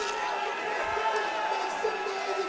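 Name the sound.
crowd cheering as fighter Keegan Irish walks out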